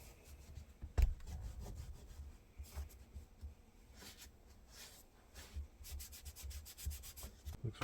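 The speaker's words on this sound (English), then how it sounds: "now I'm wiping off all this little white excess" Quiet, close rubbing of a cloth over leather boots, wiping off excess oil in uneven strokes with a few soft knocks and scuffs and no voices.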